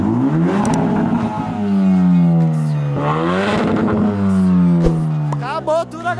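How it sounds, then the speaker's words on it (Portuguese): A Jaguar F-Type with a straight-pipe exhaust and almost no fuel, revved hard in repeated rising and falling sweeps, loud and close, with a rough, crackling tone as the throttle closes. "Acelerando no seco, sem guspe."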